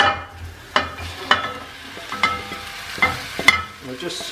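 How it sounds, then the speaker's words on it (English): Onions and hot spices fry in a pan for burritos, with a low sizzle beneath repeated loud scraping and knocking strokes as the mixture is stirred, and a voice briefly speaking at the start. "So I'm just going to dump this straight into the pan."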